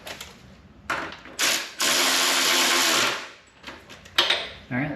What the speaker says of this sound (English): First, we're going to go through and use our 3/8 ratchet and just get them somewhat tight